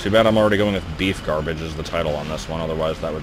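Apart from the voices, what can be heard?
None of the usual background noises is heard.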